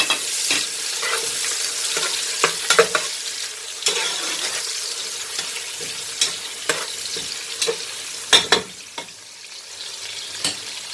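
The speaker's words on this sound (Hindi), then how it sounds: "3 अदद प्याज शामिल कर देंगे और इसको लाइट ब्राउन करेंगे।" Onions and a few curry leaves frying in a pan until light brown, a steady moderate sizzle broken by repeated spoon scrapes and stirring knocks.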